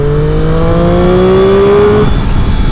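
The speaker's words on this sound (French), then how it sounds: "Bon on a fait une petite accélération de Lamborghini quand même." A Lamborghini accelerates hard, its engine note climbing through the revs in one loud close pull, then easing off with a steady road and wind roar.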